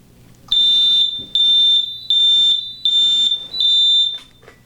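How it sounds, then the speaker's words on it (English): A high-level process alarm on an alarm annunciator sounds as five loud electronic beep bursts, each about half a second long, separated by short silences and repeating in an even rhythm. "we have the high alarm indicated on the annunciator"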